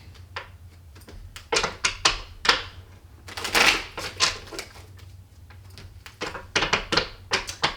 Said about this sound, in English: while I am shuffling the cards